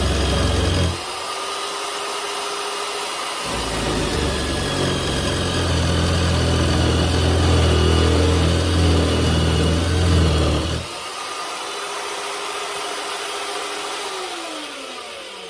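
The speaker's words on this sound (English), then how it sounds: "We're going to just drill a hole in it, just to show you." A mag drill bores a hole in 10mm steel flat bar, its motor running loud and steady with a heavier grinding stretch in the middle while it cuts, then falling back to a plain whir.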